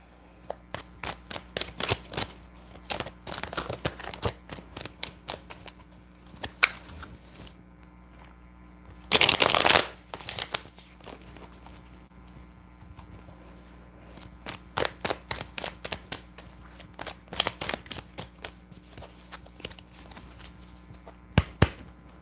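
Tarot cards being shuffled, giving irregular bursts of soft riffling clicks and flicks across the stretch, with one louder, denser burst in the middle; close and fairly quiet, no talking.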